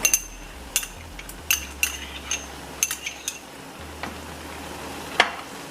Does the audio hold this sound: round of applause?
no